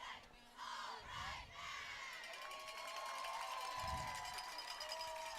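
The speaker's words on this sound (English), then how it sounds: "And now the crowd seems to be alive" Crowd and cheerleaders cheering at a high school football game on senior night, Wayne Hills against Nutley, with distant shouts swelling and sustained roar mixed with a faint tone, fairly quiet overall.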